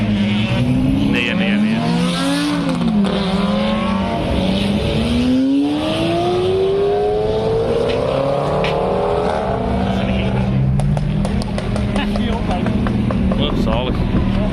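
Supercars racing on the Zolder circuit, engines rising and falling in pitch as they pass through gears, a steady loud roar with overlapping cars, with people talking over it.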